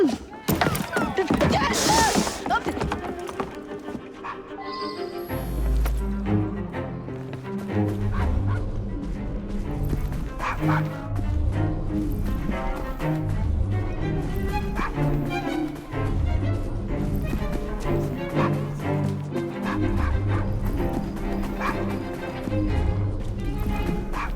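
A dog barks and whimpers in the video game Assassin's Creed Syndicate, with short yips and thuds heard over game music and people talking.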